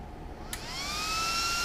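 A rack server cooling fan spins up as the voltage is turned up, rising into a loud, steady whine with a climbing pitch and a strong rush of air.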